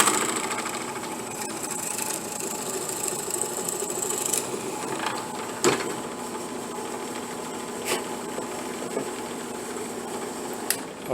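A steady, continuous power drill whirs and grinds into wood, boring a 5/16-inch hole for an ant figure's head, with a few sharper bumps and catches along the way.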